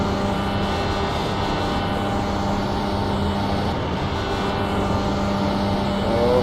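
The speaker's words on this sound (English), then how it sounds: "Oh, hitting that rev limiter." A Dallara IR18 IndyCar in the iRacing sim bounces off its rev limiter near 12,000 RPM, a loud, sustained buzzing engine drone holding steady throughout with a slight rise at the end.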